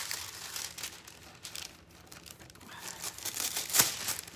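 Aluminum foil crinkling and rustling as it is laid down and pressed flat, a close, continuous papery crackle with a louder crisp crunch near the end.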